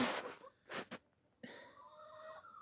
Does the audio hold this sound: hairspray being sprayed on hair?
no